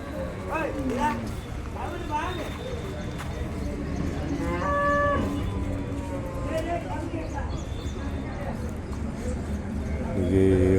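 Cattle low at the Vaniyambadi cattle market, several moos rising over a continuous crowd murmur and busy market noise, with people talking throughout.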